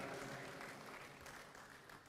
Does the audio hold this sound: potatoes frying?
no